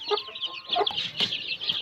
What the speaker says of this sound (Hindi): ये मुर्गी है और ये चूज़े पहले इसके साथ छोड़े हुए हैं